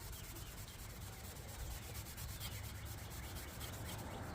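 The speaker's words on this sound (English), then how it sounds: "just start scrubbing it away" Steel wool scrubbing surface rust off stainless steel with WD-40, a soft continuous rubbing scrape in a quick back-and-forth rhythm, close and fairly faint.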